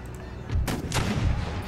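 Mortar artillery fire in the video game Empire Total War: a few deep, booming blasts in quick succession with rumbling low-end tails, moderately loud and without talk.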